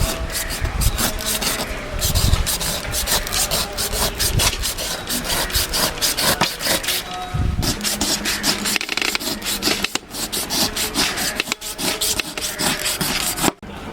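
A knife pares the thick skin off a whole jackfruit being prepared for chakka thoran, producing loud, close rasping and scraping strokes in a continuous, uneven rhythm throughout.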